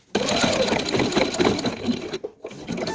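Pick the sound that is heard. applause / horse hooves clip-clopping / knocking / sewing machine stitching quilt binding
sewing machine stitching quilt binding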